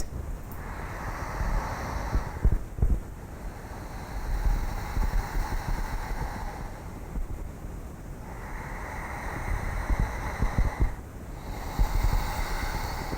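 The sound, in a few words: throat breathing imitating wind or waves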